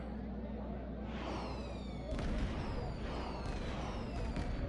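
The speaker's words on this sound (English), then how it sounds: "Oh, those are fireworks." Fireworks go off in the video game Star Trek Online, a few whooshing launches followed by sharp pops and booms over a low background hum.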